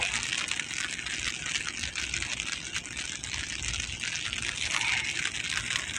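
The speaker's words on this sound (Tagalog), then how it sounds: "walang tigil yung ulan" Steady, dense hiss of heavy monsoon rain pouring down without letup over Manila Bay, loud and close, with no voices.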